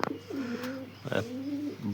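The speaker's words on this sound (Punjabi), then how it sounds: "ਇਸ ਟਾਈਮ 9 ਤੇ ਕਬੂਤਰ ਆਪਾਂ ਛੱਡਦੇ ਆ ਖੁੱਲੇ" Pigeons just let out of their loft for the morning give low, rolling coos, two drawn-out calls close by over a quiet background.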